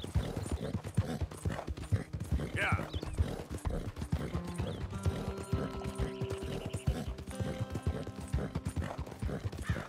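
Horse hooves gallop in a steady, rapid clip-clop rhythm through Red Dead Redemption 2, close and continuous across the whole stretch, with a brief whinny early on and someone talking over the ride.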